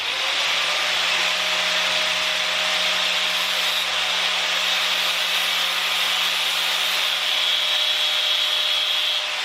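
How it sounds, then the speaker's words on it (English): A steel Allen key is cut and ground down with a power tool, giving a continuous loud, bright, hissing grind that holds steady for several seconds with no talking. "I'm gonna cut this Allen key and see if I can get in that way"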